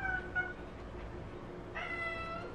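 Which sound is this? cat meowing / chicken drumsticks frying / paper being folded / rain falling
cat meowing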